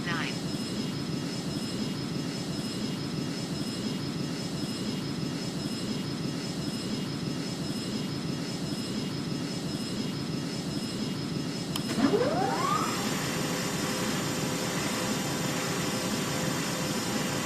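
Fixed-wing aircraft cleared to land on runway 09, its engine roar a steady broad rumble throughout, with a brief rising whine near the end as it passes close; radio voices are present.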